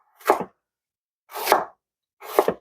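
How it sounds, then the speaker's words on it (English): Potatoes roughly chopped with a knife on a board while a shepherd's pie filling is prepared, three distinct close chopping bursts separated by pauses. "Just chopping these roughly because the pressure cooker will do a good job on them."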